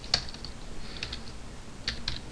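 Typing Java code on a computer keyboard, with scattered soft key clicks in small bursts and pauses, close and fairly quiet, no talking.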